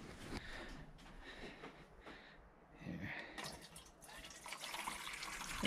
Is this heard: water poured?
yes